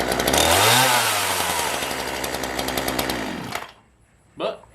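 A chainsaw, just cleaned with kerosene and with its chain still slightly loose, revs up loudly and runs with a rising-and-falling whine before cutting off, followed by a brief voice.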